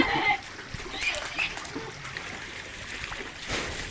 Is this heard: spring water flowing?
yes